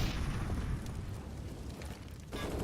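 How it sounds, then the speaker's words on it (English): A grenade blast in a CS:GO match, a muffled low boom under a dense wash of game noise, with a second sharper burst near the end; moderately loud, no talk over it. "That's a nice little nade."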